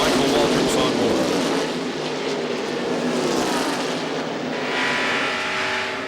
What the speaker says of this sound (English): Let's listen now to Michael Waltrip's on board.